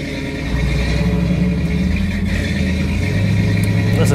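A 1968 Pontiac Firebird with its 400 engine gives a loud, steady low rumble that swells slightly as it revs and pulls away, a continuous close-up drone with no talking over it.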